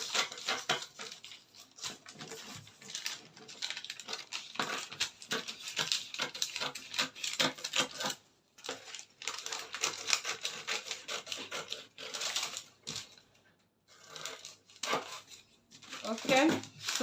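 Scissors cutting fabric pattern pieces for a twelve-piece bustier blouse with yoke, heard as continuous close crisp snipping and rasping strokes in irregular bursts with brief pauses.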